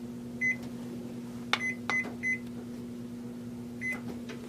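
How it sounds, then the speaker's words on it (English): A microwave oven hums steadily at close range, its constant drone broken by several short electronic beeps and a few clicks, with no talking. "Now microwave number 2 is going."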